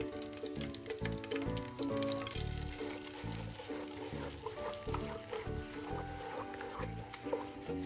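Semolina roasting in ghee in a pan, a continuous soft sizzle and crackle that sits beneath steady background music.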